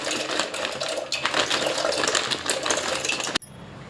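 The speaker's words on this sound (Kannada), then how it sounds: "ನಾವು ವಿ ಆರ್ ಆ್ಯಡಿಂಗ್ ಪಾಸ್ತಾ." Dry pasta tipped into a pot of hot water on a home stovetop at night, a continuous rattling, clattering patter of pieces falling, fairly quiet, stopping suddenly with a final clink.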